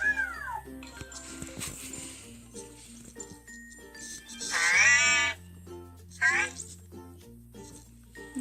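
An Anki Cozmo toy robot makes surprised reaction sounds: bright, chirpy electronic squeals and warbles in two short bursts over a steady background of music-like tones.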